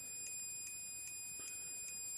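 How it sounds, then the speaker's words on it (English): Short electronic continuity beeps from a multimeter repeat at an even pace, about five of them, faint against a low background hiss. "we should start to hear the multimeter beeping, indicating that current is going through"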